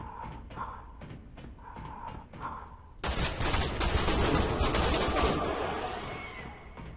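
Laser rifle fire in the video game CDF Ghostship: several short separate shots, then a loud sustained burst of rapid blasts that slowly fades, with no talking.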